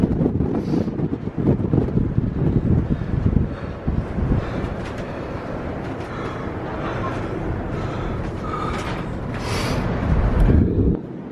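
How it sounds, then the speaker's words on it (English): Cold wind gusting on an Appalachian Trail mountain path, buffeting the microphone in a steady low roar that swells near the start and again toward the end, with no other sound standing out. "That wind is cold."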